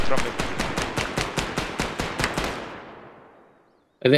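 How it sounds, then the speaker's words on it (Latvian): A rapid string of about a dozen evenly spaced automatic gunshots fires in the military shooter ArmA 3, then trails off into a fading echo, and a voice cuts in right after. "Man šāva."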